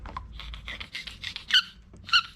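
Toby the dog works a squeaky toy that gives soft rubbing chirps and then two sharp, high squeaks near the end, close and alone in a quiet room.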